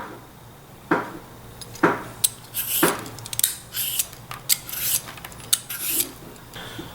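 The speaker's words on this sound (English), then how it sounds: "We're going to peel the cucumber." Cucumber being peeled by hand in a home kitchen for a cucumber tomato salad, heard as a close series of short rasping scrapes at an uneven rhythm, with no talking.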